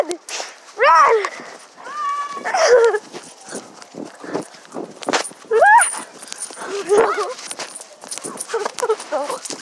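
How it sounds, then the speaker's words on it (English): A dog barks repeatedly at close range outdoors while people shout and talk excitedly over it as they run. "Michael, the dog sees us! Run! Run!"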